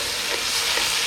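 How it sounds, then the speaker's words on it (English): Mushrooms go into a hot pan for a creamy Tuscan chicken dish and are stirred, giving a steady, close, continuous sizzle with a soft rustle of movement throughout. "And now we're gonna add our mushrooms"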